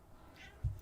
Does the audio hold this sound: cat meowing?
yes